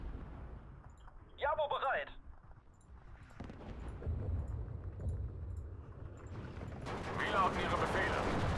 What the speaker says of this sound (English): And we have mortars.